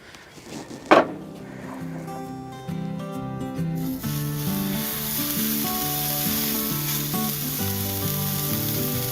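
BBQ pork steaks sizzle loudly on a Blackstone griddle fitted with a Sear'NSizzle grill, a sharp clack at the start, then a steady close hiss that builds and holds.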